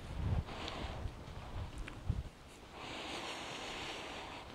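Wind gusts across a sandy beach at the Venera Resort in Anapa, with faint surf washing underneath; the wind rumbles and buffets, then settles into a steadier, soft rush.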